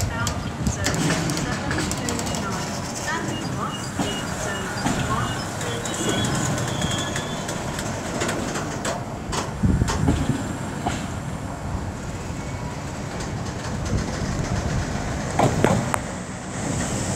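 An LNER Azuma service to Edinburgh at Peterborough on the East Coast Main Line rumbles past with rolling rail noise and intermittent clatter, loud and close, with someone talking over much of it.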